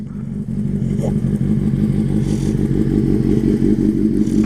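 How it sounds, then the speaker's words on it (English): A 2010 Honda CBR 600RR motorcycle engine runs steadily at idle, a loud, close, continuous low rumble holding even throughout with no talk over it. "This is the bike. 2010 Honda CBR 600rr."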